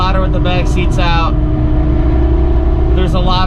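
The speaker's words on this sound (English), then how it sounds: "the diff is not only 10 times louder with the back seats out" Car with its rear seats removed, a loud continuous differential whine and road drone, with a person talking over it at the start and end.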